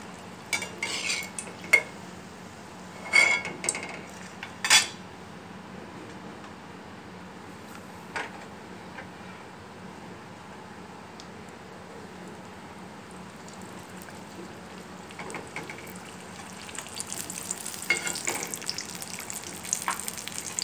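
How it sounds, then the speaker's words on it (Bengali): Aloo puris deep-frying in hot oil, a steady close sizzle with a few louder clinks of a utensil against the pan early on and a brighter bubbling rush building toward the end. "তো এইভাবে করে আমি সব পুরিগুলো ভেজে নিব।"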